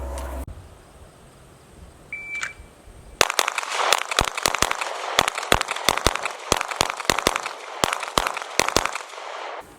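Rapid handgun shots from a designated target shooting drill crack out in quick irregular strings, loud and close, about eighteen sharp reports over several seconds after a quiet start.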